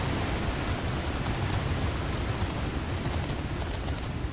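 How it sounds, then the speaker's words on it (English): A steady, even waterfall roar fills the background of Final Fantasy XIV, a constant broadband rush with no breaks and no voices over it. "The waterfall in the background, I think that's nice. It's like some nice background sound."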